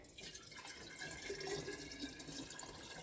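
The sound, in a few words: hand pump drawing water from a well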